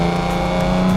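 A Ford Capri, an old car, drives on a track, its engine a steady, loud, continuous drone close by with no voices.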